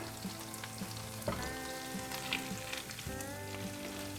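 Onion frying in butter in a pan, a steady close sizzle with crackling pops and some tonal hum from the kitchen, with potatoes boiling nearby; no talking.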